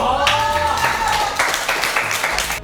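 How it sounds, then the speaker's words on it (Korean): A group claps together to close out a round of party games, producing a dense, steady burst of applause. A voice rises briefly over the clapping at the start. "다 같이 박수 한번!"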